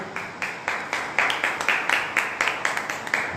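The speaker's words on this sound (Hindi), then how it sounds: "तालियां बजा सकते हैं अपने जगह से आप।" A church congregation claps from their seats during a Sunday service, a steady run of about a dozen sharp, evenly spaced claps that sound like a few nearby hands rather than a big crowd.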